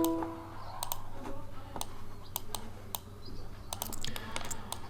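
Computer keyboard being typed on, a scattering of sharp isolated key clicks at irregular intervals over a low background hum, quiet and close, no speech.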